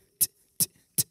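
Beatbox cymbal made by a voice saying a crisp "ts": three short, sharp hisses evenly spaced about 0.4 seconds apart, close and fairly quiet, imitating a hi-hat.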